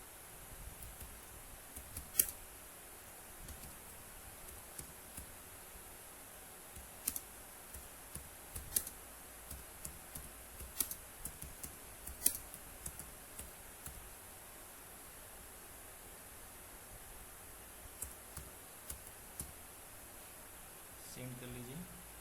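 Quiet clicking keystrokes on a computer keyboard while composing an e-office draft, scattered irregular taps over a low hiss of room noise, with soft talk in the background.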